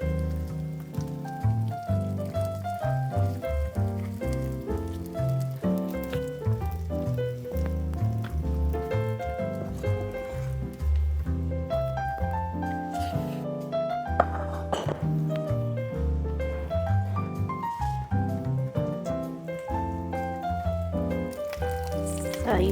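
Kimchi cheese arepas fry in a pan with a steady, rain-like sizzle and crackle that runs continuously under prominent background music.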